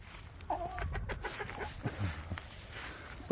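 A round-headed hen in a chicken yard clucks softly in a few short, close calls over a faint outdoor background.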